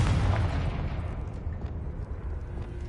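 Confringo explosion spell cast in Hogwarts Legacy on PS5, a heavy booming blast up front that rolls into a sustained low rumble and slowly fades.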